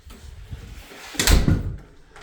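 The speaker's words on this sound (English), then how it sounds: "Coming inside the house from the back door." The back door of a weather-beaten house opens with a soft rattle, then a louder thump and clatter of the door and frame, heard close with no talk.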